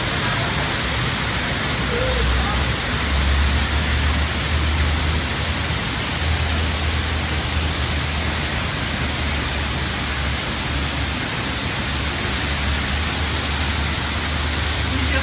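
Steady rain falls outside a house in Galle, Sri Lanka, a dense, even hiss of downpour that continues without a break throughout, with a faint low rumble underneath.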